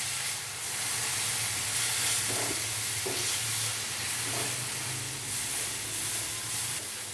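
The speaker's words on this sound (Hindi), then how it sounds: "अभी हम इसको अच्छे से मिक्स करेंगे और मसाले को भून लेंगे 2 से 3 मिनट के लिए" Spice masala sizzles as it roasts in a pan with a splash of water, a steady frying hiss with a low bubbling hum and a few soft stirring scrapes throughout.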